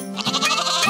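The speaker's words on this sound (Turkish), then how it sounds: "Koyun. Me, me." A cartoon sheep bleats in a short, wavering, close and clear call with no other sounds around it.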